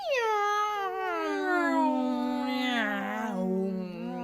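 A human voice imitates a long, wavering cat meow, sliding down in pitch and then rising and falling, loud and close.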